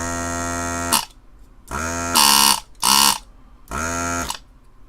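A Hakko FR-300 desoldering tool's vacuum pump runs in loud buzzing bursts, switching on and off several times with irregular gaps between the humming pulses.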